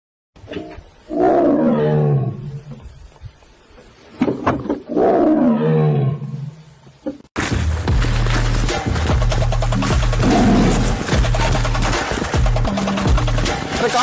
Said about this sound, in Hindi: हाँ बाघ वो सुने हैं, वहाँ बाघ है, उधर आ रहा बाघ है।